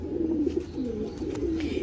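A breeding pigeon coos in low, rolling, throaty calls, close and continuous, with no talk over it.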